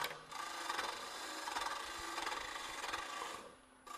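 A cutting tool makes a rotary peeling cut along a spinning wood workpiece to reduce its diameter, a continuous close shaving rasp that holds steady for several seconds and then fades out.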